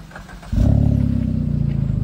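A modified Suzuki Ignis exhaust fires up from a quiet background into a loud, deep, pulsing drone at close range, holding a steady throbbing idle afterward.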